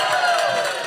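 An audience cheering and applauding at NBA All-Star Weekend in Salt Lake City, a short, loud burst of crowd cheers and shouts, sustained and dense.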